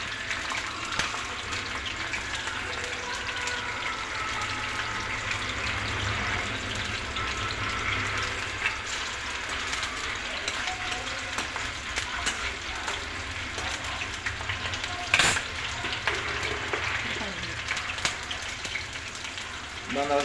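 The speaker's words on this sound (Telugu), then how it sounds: "కొద్దిగా అట్లా లైట్గా డీప్ ఫ్రై చేసుకోవాలి." Chillies lightly deep frying in hot oil, a steady close sizzle and crackle that runs continuously, with a brief louder clatter partway through.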